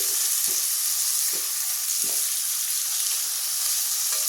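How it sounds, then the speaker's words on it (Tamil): Chopped tomato and onion sauté in a pan for tomato chutney, giving off a loud, dense, continuous sizzle up close. Faint periodic scrapes of stirring sit beneath it, and no one speaks. "இப்போ தக்காளி வெங்காயத்தை போட்டாச்சுங்க. நல்லா கொஞ்சம் வணங்கட்டு."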